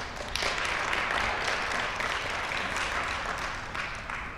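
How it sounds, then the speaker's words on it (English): An audience at a business accelerator graduation ceremony claps, a dense burst of applause that starts abruptly and holds steady before tapering slightly near the end. "Give yourself a round of applause again just for the accomplishments."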